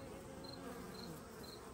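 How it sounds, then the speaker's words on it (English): Robber bees buzz and drone around a beehive whose lid was cracked, a faint, steady insect hum with a few high whining passes, no talk. "there's still some robber bees flying around trying to get in where the lid was cracked a little bit"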